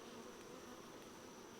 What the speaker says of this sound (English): the bees are definitely working hard here